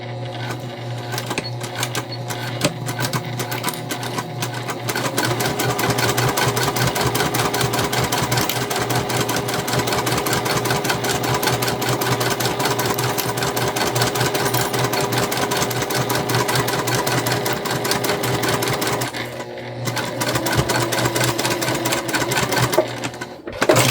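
Close, loud sewing machine stitching a makeup bag, running continuously in a fast mechanical chatter with brief pauses near the start and toward the end.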